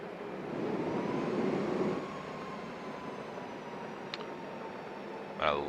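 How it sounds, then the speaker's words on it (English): PMDG 737-700 engines whining and rumbling during taxi in MSFS 2024, a steady broadband roar that swells briefly then settles, with a faint tonal whine and a couple of small clicks. "I love the new engine sounds that PMDG put out."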